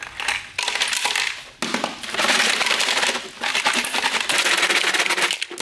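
Rocks tumbling inside a cheap Harbor Freight rock polisher make a loud, dense rattle of hard clinks and clatter, continuous apart from brief dips near the start and middle.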